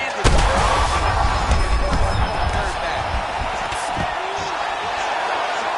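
Crowd in the UFC 5 video game reacting to strikes during an online ranked fight, a sustained arena roar with sharp bursts of cheering and thuds, a commentator's voice running over it.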